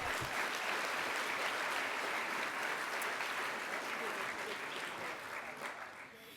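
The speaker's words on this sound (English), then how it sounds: "So another round of applause to Richard." Conference audience applauding a speaker at a morning session, dense steady clapping throughout that fades slightly toward the end.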